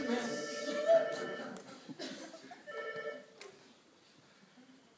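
A telephone rings with repeated electronic tones, heard under people talking and chuckling nearby.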